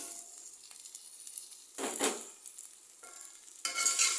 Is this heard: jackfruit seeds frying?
yes